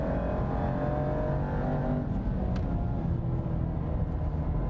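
Jaguar XE SV Project 8 with its heavy V8 lapping the Portimao track in track mode, heard from inside as a loud, steady, deep engine roar that holds unbroken throughout.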